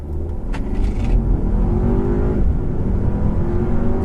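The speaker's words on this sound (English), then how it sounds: "It's got a really gutsy engine. It pulls really, really good." A 2015 Audi A3 in regular mode with traction control on accelerates hard from a standstill toward 60 mph, its engine droning loud and steady from close inside the cabin, the pitch rising through the gears with a brief shift dip.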